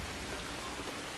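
Steady, dense rain hisses evenly throughout a scene in the samurai video game Assassin's Creed Shadows, a constant wash of falling water with no other sounds standing out.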